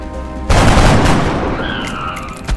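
A loud gunshot blast in XCOM Enemy Unknown strikes an alien, bursting in suddenly after a quieter stretch and trailing into a long, noisy, rumbling decay with faint ringing tones near the end.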